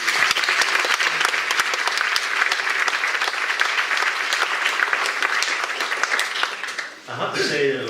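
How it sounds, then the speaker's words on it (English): An audience claps for a performer after her talk and performance, a dense, loud, sustained round of applause that fades near the end as a voice begins speaking. "Give her another clap."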